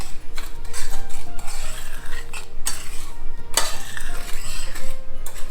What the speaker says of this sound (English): I'm going to mix that in with the sugar.